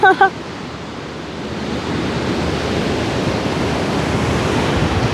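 Sea waves breaking on the shore at a beach campsite in the rainy season, a steady broad rush of surf that swells slightly louder over a few seconds after a brief burst of voice at the start.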